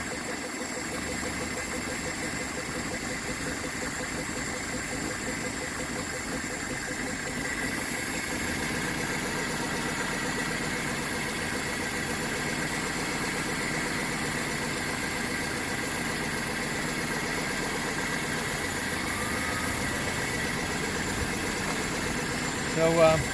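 A 1983 Toyota SR5 4x4 pickup, a garage find, idles steadily at close range on its first run, a constant even engine drone holding level throughout with a slight lift partway and no voices.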